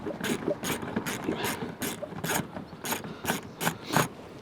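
Ratchet working the rear bumper bolts on a Ford Mondeo MK3, a close, steady run of about ten rapid clicking bursts at an even rhythm, fairly quiet, with no voices.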